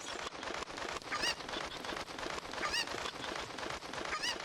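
In Zelda: Ocarina of Time, a bird gives short honking, clucking calls three times at spaced intervals over a busy, noisy game background.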